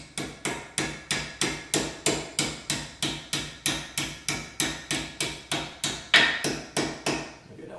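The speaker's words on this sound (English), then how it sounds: "get the punch on the back of these and just kind of lightly just kind of hammer them in" Brake pad pins on a 2009-2013 BMW E70 X5M or X6M being tapped in with a hammer and punch, giving a long, steady series of about twenty evenly spaced, close metallic strikes with no talk.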